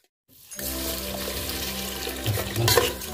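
Water poured steadily into a cooking pot to make Maggi noodles, a close, continuous gushing stream that swells slightly louder toward the end.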